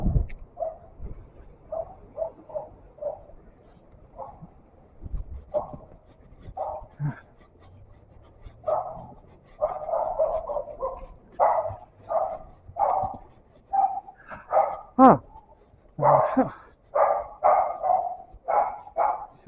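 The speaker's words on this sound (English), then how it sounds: "sounds like a small dog" A small dog barks repeatedly on a street in Marsala, Sicily, a run of short sharp yaps coming in bursts at moderate distance, growing denser toward the end, with brief talk near the start.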